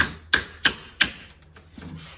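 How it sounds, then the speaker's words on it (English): Hammer blows on a part of a Ford F-350 Dana 60 front axle during a rebuild: three sharp metallic strikes in steady rhythm, close and loud, followed by softer scraping and shuffling. "You want to have the end you're hammering the slightest bit higher than everything else"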